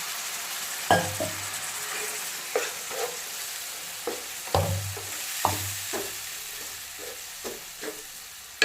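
Yogurt stirred into a sizzling red-chilli masala for a sweet-and-sour sabzi, a constant sizzle broken by repeated close scrapes and knocks of a spoon against the pan, with a sharp clink at the end.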